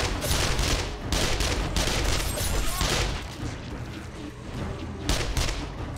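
Gunfire from a favorite weapon in 7 Days to Die during a horde night, a dense, loud barrage of rapid shots and booming impacts that continues nearly unbroken, with a voice faintly present beneath the din.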